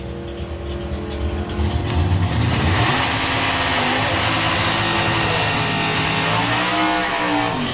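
Five drag race cars accelerating hard in a nationals finals round: a loud, sustained engine roar that swells and holds across the whole stretch, with rising revs near the end.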